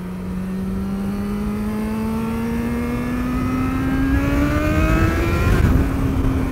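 A Yamaha XJ6 motorcycle with nearly 52,000 miles, in need of some work, accelerates steadily on the road, its engine note climbing smoothly in pitch with a gear change near the end, close and loud over wind noise.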